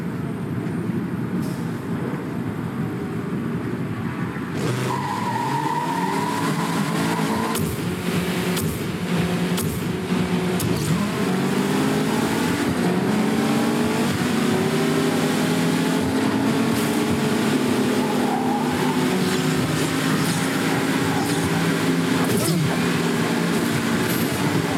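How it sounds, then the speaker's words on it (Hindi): Car engines and tire skids from the racing game Blur, played on an Asus VivoBook S14 OLED laptop: a continuous loud engine drone with rising and falling pitch sweeps as the cars accelerate and shift, alone without talk. "नेक्स्ट इसमें एक और रेसिंग गेम प्ले करके देख लेते हैं ब्लर"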